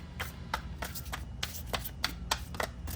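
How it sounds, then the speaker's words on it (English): A deck of tarot cards is shuffled by hand in a quiet room: about ten crisp riffling and slapping bursts in quick irregular succession over a low background hum, close and moderately loud. "And then I'm going to do a shuffle"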